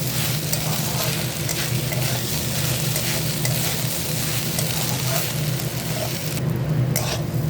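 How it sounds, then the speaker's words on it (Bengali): Rice is fried in ghee in a pan with cinnamon, cloves, bay leaf, cashews and raisins, making a steady close-up sizzle with a scraping, stirring texture that runs for the whole stretch. "এবার আমি এটা ভালো করে ফ্রাই করে নেব।"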